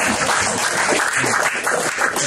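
Guests at a Cameroonian traditional wedding break into a brief, dense burst of hand clapping that is loud and close throughout.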